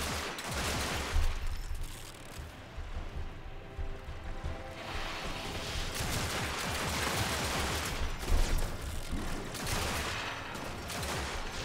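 Continuous, loud gunfire from a secondary weapon in the video game Warframe, with dense rapid shots and clattering impacts that run without pause under constant game noise. No one speaks.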